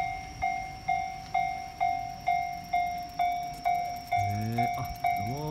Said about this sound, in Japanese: お、電車来る。